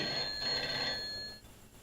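A telephone rings in a Bengali cartoon, a bright electronic trill sounding steadily for just over a second before stopping, fairly clear against a quiet background.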